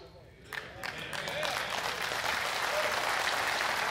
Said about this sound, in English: you guys, you keep on clapping